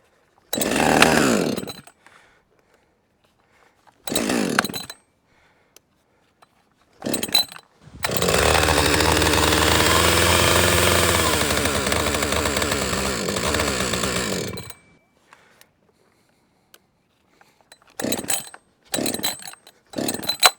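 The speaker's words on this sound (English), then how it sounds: "Oh my gosh, this saw is doing what it did before." A Husqvarna 562XP chainsaw fitted with a brand-new Duke's chain runs up in short revving bursts, then holds a long loud sustained roar before dropping back to quick blips, heard close and alone.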